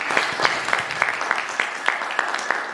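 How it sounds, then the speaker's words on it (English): Audience applause at the closing of a college tech event, a steady, dense patter of many hands clapping fairly close and loud throughout. "let us give a big round of applause to everyone"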